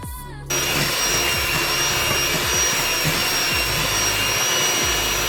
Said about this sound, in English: I'm gonna use my electric mixer, and I'm gonna cream the sugar and the butter together